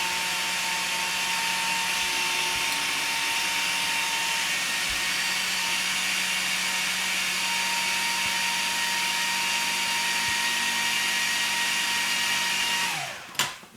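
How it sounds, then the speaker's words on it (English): A food processor whirs steadily while blending chocolate mousse ingredients, a constant loud motor drone that runs for over twelve seconds before winding down and stopping. "pop them all together again in the food processor"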